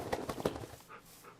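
A dog pants in the Minecraft video game, a short burst of quick breathy puffs up front that fades into quieter, softer breaths.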